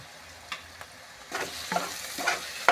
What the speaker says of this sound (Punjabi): ਆਪਾਂ ਜੀ ਲਾਲ ਟਮਾਟਰ ਪਾ ਰਹੇ ਹਾਂ